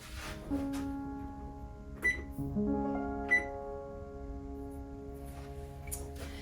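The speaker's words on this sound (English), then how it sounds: "I'm going to preheat my oven to 350 degrees Fahrenheit" A home kitchen oven's control panel is set to preheat to 350 degrees Fahrenheit, giving a few short, quiet electronic beeps spread across several seconds against a faint steady hum, with no talk.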